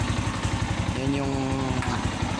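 Motorcycle fitted with an Exos X-6 exhaust pipe idles at about 1,500 RPM, a close, steady low-pitched putter with a faint tonal whine rising briefly in the middle.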